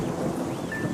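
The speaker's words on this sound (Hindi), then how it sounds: "बिजली कड़क रही है" Thunder rumbles low and heavy during a rainstorm, a continuous distant roll at moderate volume with a faint thin tone drifting above it.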